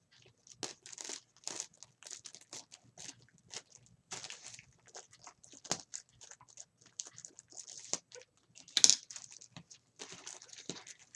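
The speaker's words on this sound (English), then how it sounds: "I'm going to cut the plastic bag open from the bottom" A plastic bag is cut open from the bottom, with scattered crinkling, rustling and snipping sounds in short bursts between quiet gaps, close and soft.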